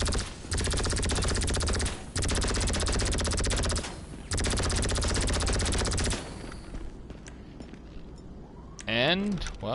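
A laser weapon in the game GTA fires in long rapid automatic bursts, three sustained volleys separated by short pauses, followed by quieter scattered sounds and a brief voice at the end.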